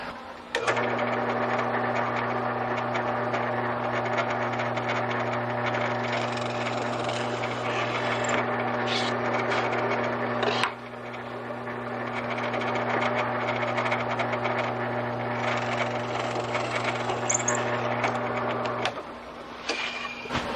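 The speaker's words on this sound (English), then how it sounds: "Put a drill bit in here." A power drill whines steadily at close range while drilling a bolt hole, its motor dipping briefly midway, then running on before cutting off near the end.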